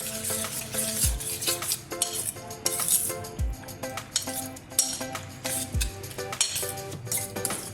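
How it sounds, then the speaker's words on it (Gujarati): Mixed vegetables with green chillies, curry leaves and sweet potato being stirred for raita in a bowl, a steady scraping stir with spoon clinks and knocks against the bowl repeating throughout, close and clear with no talk. "પછી આ બધું સરસ રીતે આપણે મિક્સ કરી લઈશું"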